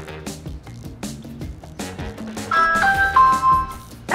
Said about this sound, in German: Der kleine Kasten, die Türklingel.